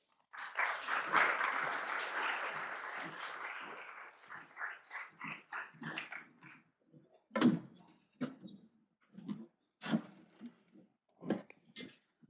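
Audience applause at a Tuesday luncheon as guests are welcomed onto the stage, a loud burst of clapping that fades over a few seconds, followed by scattered knocks and low thumps.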